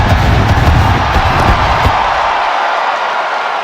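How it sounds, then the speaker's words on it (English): A loud, continuous crowd roar fills a wrestling arena in WWE 2K25, steady cheering that thins slightly toward the end. "Listen to this crowd"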